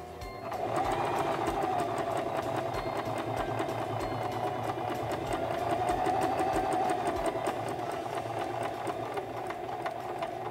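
Singer Promise II 1512 sewing machine sewing forward, a steady fast mechanical hum with rapid needle clatter running continuously and fairly close, with no talk.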